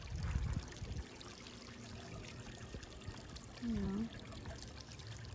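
A backyard waterfall at night gives off a faint, steady trickle of falling water, with a short voice breaking in partway through.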